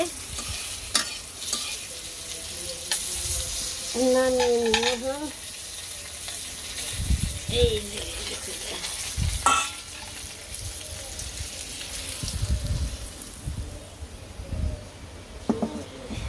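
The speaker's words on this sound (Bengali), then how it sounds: "এই তো আমার কারকল ভাজা হয়ে গেছে" Teasel gourd frying in a pan and stirred with scraping strokes over a steady close sizzle, with a brief spoken remark partway through.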